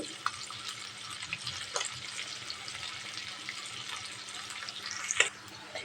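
Chopped onion and green chili frying with prawns in a pan, a quiet steady sizzle with a few scraping stir clicks and a brief clatter near the end, no voices.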